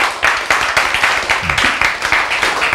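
Audience clapping during a Korean church sermon, a brief burst of scattered handclaps with distinct sharp claps standing out, fairly close and moderately loud, with no talk over it.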